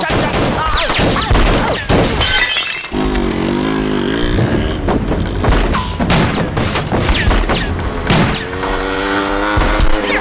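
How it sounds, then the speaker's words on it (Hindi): A gun fight in a Hindi-dubbed South Indian action movie: loud bursts of rapid gunfire and crashes mixed with music and dramatic effects, dense and continuous throughout. "ये गन फाइट है, स्टंट शो की तरह।"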